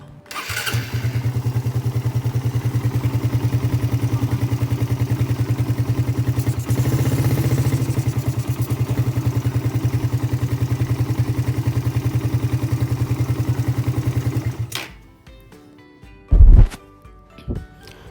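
A carbureted Suzuki Satria FU motorcycle engine is started and runs loudly and steadily close by for about fourteen seconds, then cuts off, followed by a few clattering knocks in the quiet.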